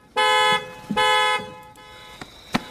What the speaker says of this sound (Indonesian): Nah, Medi mencoba mengalihkan perhatian pria itu dengan membunyikan alarm mobil